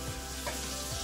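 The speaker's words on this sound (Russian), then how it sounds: "Вот начинаем мы прожарку, собственно, раскаляем чугунную плотную сковородку." Oil sizzles and crackles steadily in a hot cast-iron pan, a brief continuous frying hiss with small pops.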